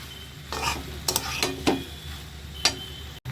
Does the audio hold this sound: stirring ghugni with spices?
yes